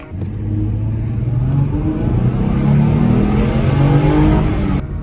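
A 2014 Ford Mustang V6 revs and accelerates on a test drive, a loud rising mid-pitched engine drone heard from inside the car, building steadily for about five seconds, with no talking.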